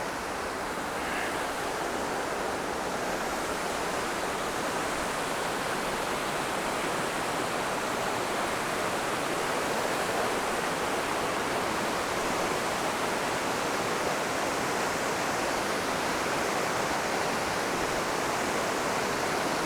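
Pine Creek in Montana rushes past on a summer day, its steady broadband flow loud and unbroken throughout, with no voices over the water.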